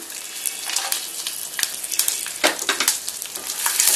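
Fennel, cinnamon, ginger, green chilli and garlic sauté in hot oil with a steady, close crackling sizzle, broken by frequent sharp stirring scrapes and pops.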